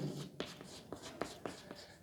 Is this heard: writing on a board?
yes